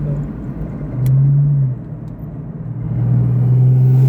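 A car engine rumbles close behind a 1966 Dodge Dart, swelling louder as it passes, fading briefly, then building again with steady low revving.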